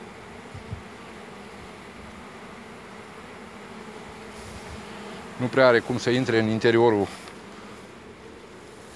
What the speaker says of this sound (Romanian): nu prea are cum să zboare albina.